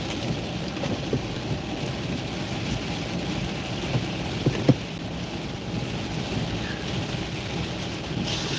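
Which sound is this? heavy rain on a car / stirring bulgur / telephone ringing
heavy rain on a car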